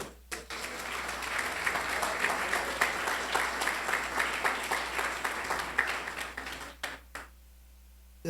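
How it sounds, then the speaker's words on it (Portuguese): A church congregation claps in praise to the Lord, at first in loose applause that settles into a rhythmic beat, then fades into quiet near the end. "pode aplaudir o Senhor"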